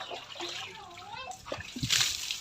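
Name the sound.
water splashing while washing an elephant's wound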